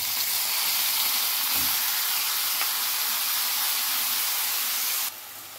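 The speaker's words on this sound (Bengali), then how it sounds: "আমি এবার এই যে মোচাটাকে মশলা দিয়ে মেখে রেখেছি এটা দিয়ে দিলাম" Spiced banana flower (mocha) sizzling in a hot pan, a steady broad hiss of frying that runs unbroken for several seconds, close and fairly loud, with no talk over it.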